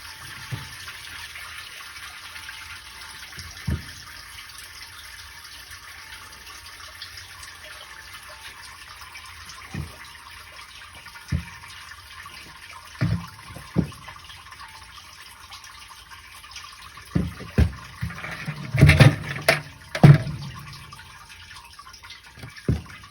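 Maple sap poured from a bucket through a strainer, faint trickling with scattered knocks and bumps, then a louder burst of splashing and clatter near the end, close by with no talk.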